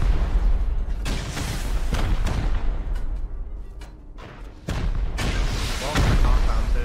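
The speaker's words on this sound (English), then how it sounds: "Just pummel, bro. Use all the rockets." Repeated heavy rocket explosions go off during a raid in the game Rust, arriving as a series of deep, loud booms with short gaps between them, with voices talking underneath.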